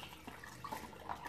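Onion and garlic juice trickling through a strainer and funnel into a glass jar, a faint close pouring and dripping with small liquid splashes.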